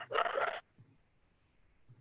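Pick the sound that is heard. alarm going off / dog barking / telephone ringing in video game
dog barking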